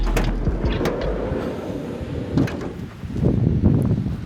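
A camper van's sliding door rolls and thuds shut on a road trip through Chile and Argentina, a close rumbling slide with a couple of knocks, heard alone without talk.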